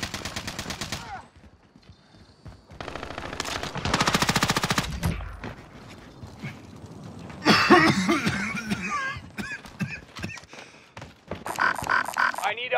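Gunfire erupts in Call of Duty on Rebirth Island, loud bursts of automatic shots in separate bouts with short gaps between them, mixed with voice and game sounds.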